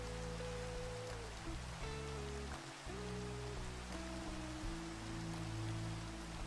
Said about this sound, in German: Der Regen ist immer noch mega laut irgendwie.